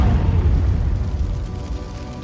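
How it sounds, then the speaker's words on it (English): An explosion in the 2004 film The Punisher: a loud, deep, rumbling roar that fills the clip and slowly fades, with no clear voice over it. "you just hear a scream and an explosion in the background"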